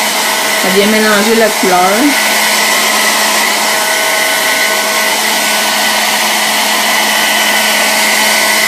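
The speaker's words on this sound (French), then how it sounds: "Fait que là, je prendrais le séchoir." A hair dryer blows alcohol ink across a ceramic surface, a steady loud broadband whoosh running the whole time, with a brief stretch of talk near the start.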